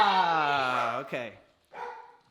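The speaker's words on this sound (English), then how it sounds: "My dog won't shut up." A dog confined to a cage upstairs lets out a long, whining, howl-like bark followed after a brief pause by a shorter yelp, fairly loud and close, with voices nearby.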